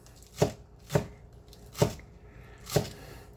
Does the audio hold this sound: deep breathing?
no